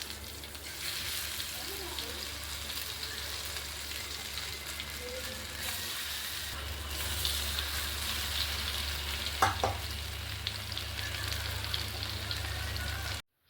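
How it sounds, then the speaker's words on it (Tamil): Masala-coated fish pieces fry in an iron kadai with a steady, loud sizzle and bubbling crackle that continues throughout, with a brief clatter partway through as pieces are handled. "இப்போது மசாலா போட்டு வச்சுருக்கிற மீனை ஒவ்வொரு துண்டாக ஆட் பண்ணி நல்லா பொரிச்சு எடுத்துக்கலாம்"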